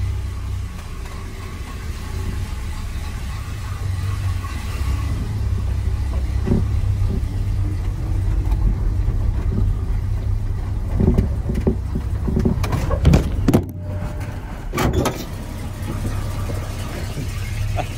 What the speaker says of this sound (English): The truck is noisy.